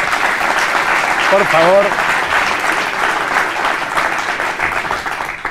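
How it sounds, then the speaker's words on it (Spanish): Audience applause for Jimi Hendrix, a dense, steady clapping that fills the whole stretch, with someone speaking briefly over it. "Un aplauso para Hendrix,"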